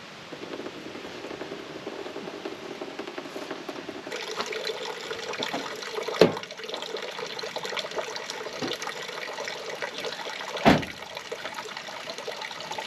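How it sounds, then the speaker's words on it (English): Coolant water drains from a Toyota radiator through the heater pipes, a steady faint trickle and splash that thickens partway through, with two brief louder knocks. "Make sure the heater's open so the water drains out through the heater pipes as well"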